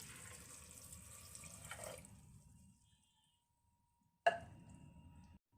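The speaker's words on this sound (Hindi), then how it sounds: "और अब इसमें पानी डाल देंगे।" Water is poured into a pressure cooker holding overnight-soaked kidney beans for rajma: a quiet splashing trickle for about two seconds, a pause of near silence, then a second brief pour.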